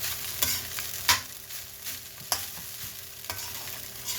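Sinangag fried rice is stirred in a pan with a soft, steady sizzle, broken by several sharp spatula scrapes and clacks, close up and with no talking.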